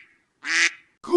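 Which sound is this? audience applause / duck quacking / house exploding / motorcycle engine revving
duck quacking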